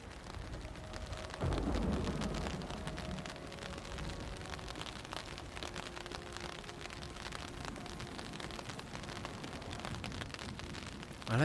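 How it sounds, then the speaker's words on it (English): Steady rain patters on a ceiling overhead in a quiet indoor spot, a constant soft hiss of drops with a brief heavier thump near the start. "I like to hear the raindrops falling in the ceiling here."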